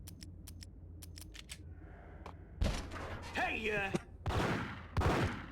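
Gunfire in the video game Max Payne: a burst of sharp shots breaks out partway through, with someone talking over and between them.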